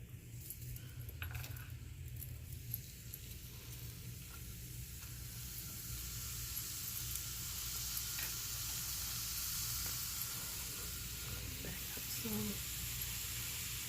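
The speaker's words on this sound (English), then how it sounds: "I'm gonna put this in the pan." Vegetables for vegetarian tacos sizzle in a frying pan with a steady, even hiss throughout, joined by occasional faint clinks, close by and without speech.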